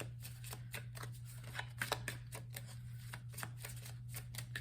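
Tarot cards being shuffled by hand for a past-life reading, a steady run of soft, papery riffling taps close by, with a constant low electrical hum underneath and no talking.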